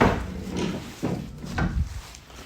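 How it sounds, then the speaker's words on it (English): Rear doors of a 2017 Volkswagen Crafter 2.0 TDI van being opened, a few close, solid clunks and creaks of the latches and hinges spread over a couple of seconds. "Let's open the back doors."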